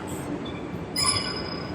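A train rumbling in a railway station in Rotterdam with a rising metallic squeal of wheels midway, fairly quiet and continuous.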